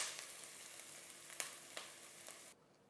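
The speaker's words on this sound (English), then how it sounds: "Braise these onions on high heat." Chopped onion with cumin seeds frying in olive oil over high heat, a steady soft sizzle with a few sharp crackles and pops, ending abruptly.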